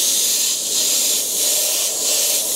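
An Iwata HP-BCS siphon feed airbrush sprays thick paint in a loud, steady, close hiss of compressed air that swells and eases gently in a slow pulse.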